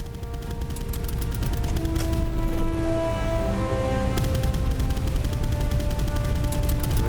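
Machine gun fire in the naval combat video game Boat Crew, rapid bursts of gunshots rattling continuously and loudly, layered with other battle noise.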